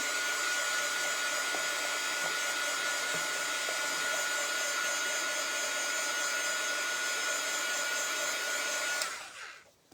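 A hair dryer blows on acrylic paint stenciled as a heart on a scrap of wood, a loud steady whirring drone held close for about nine seconds before it cuts off abruptly near the end.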